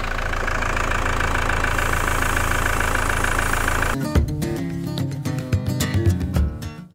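A 4WD's engine idles steadily and fairly loudly while the vehicle is being cleaned, with a low, even drone that turns to a rougher, knocking idle with sharp clatters partway through.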